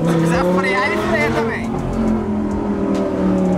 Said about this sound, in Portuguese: olha o som desse carro, velho